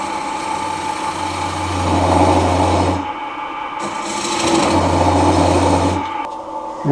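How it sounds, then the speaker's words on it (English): A square carbide tool hollows the inside of a wooden yarn bowl on a lathe, starting from a starter hole: steady rasping, scraping cuts in two long passes, with the lathe motor's low hum beneath and a short pause between. "I use a square carbide from the starter hole"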